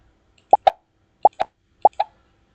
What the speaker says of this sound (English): Scratch have already provided you an example sound. I got the example sound for pop.